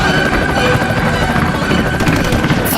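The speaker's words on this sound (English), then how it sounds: "on what they call a helicopter. It flies in the air, and it is loud" Loud, steady helicopter rotor thrum over jungle fills the whole stretch, dense and close, with rapid crackling bursts like gunfire layered on top.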